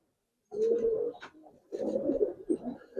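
Giribaz pigeons coo in low, throaty bursts close by, two main rounds of cooing separated by a short pause.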